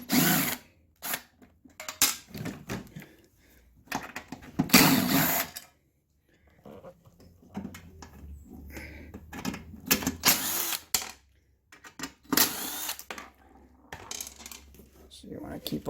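A power drill spins out the four 3/8 bolts holding the starter recoil on a lawnmower, several short whirring bursts separated by pauses and clinks.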